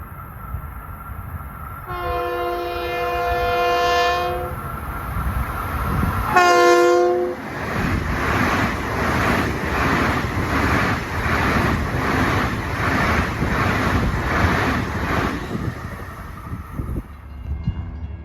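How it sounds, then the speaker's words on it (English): A Long Island Rail Road M7 electric multiple-unit train approaches westbound at Pinelawn. It sounds two loud horn blasts, then rushes past with a loud roar and rhythmic clickety-clack of wheels over rail joints, fading away at the end. "Approaching westbound at 5:21 is train 1965, en route from Ronkonkoma to Penn Station"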